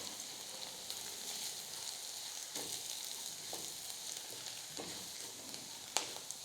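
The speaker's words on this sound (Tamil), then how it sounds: "இந்த மசாலாலாம் கொஞ்சம் எண்ணெயில் வதங்கட்டும்." Turmeric, chili, coriander and garam masala powders sizzle gently in oil for mushroom masala, a soft continuous frying hiss with occasional light stirring taps, fairly faint throughout.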